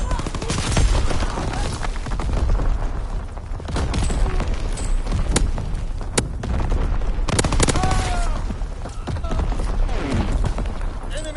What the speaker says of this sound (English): Firing primary gun.